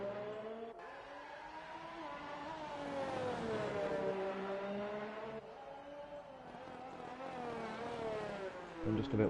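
A Red Bull race car with over 750 horsepower in a racing video game, heard as a sustained high engine whine rising and falling through the gears, moderately loud and continuous.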